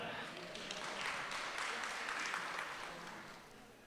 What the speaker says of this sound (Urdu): بھائی کے لیے زوردار تالیاں